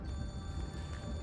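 A telephone rings in a time-loop video game set on a train, a brief, steady electronic ring with sustained tones over a low rumble.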